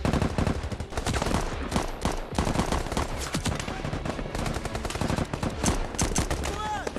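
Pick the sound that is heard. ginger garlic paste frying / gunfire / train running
gunfire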